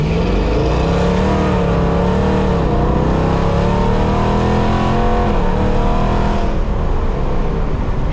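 A cammed 5.7 Hemi Dodge R/T engine rumbles loudly and steadily through a Borla ATAK cat-back exhaust, revving up and down with a deep, throaty drone, close by.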